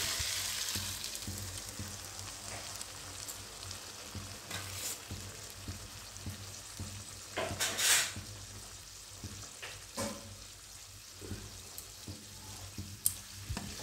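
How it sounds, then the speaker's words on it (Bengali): Water poured into a jackfruit curry (echorer dalna) frying in a pan in a Bengali vegetarian kitchen, giving a steady sizzle with stirring scrapes and a sharp hissing burst near the end. "এবার জলটা দিয়ে দিচ্ছি"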